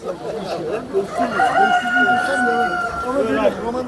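Chickens and a rooster at a Tuzla, Istanbul poultry and livestock market, with a drawn-out crow rising over steady clucking for about four seconds, close and fairly loud amid market bustle.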